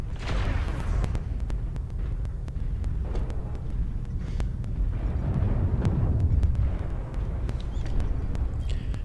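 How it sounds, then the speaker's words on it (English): Artillery strike in MechWarrior Online, a series of heavy booming explosions and rumbling impacts, with sharp cracks scattered throughout and a strong low-end rumble that swells in the middle. "Artillery strike online"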